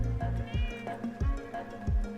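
A cat meowing repeatedly outdoors in cold weather, several drawn-out, fairly loud meows in a loose rhythm, close by, with no talk over them.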